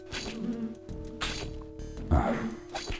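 A bee buzzes in the video game Land of Lore, a thin droning hum that swells and fades in short bursts over steady game background tones, with no one speaking.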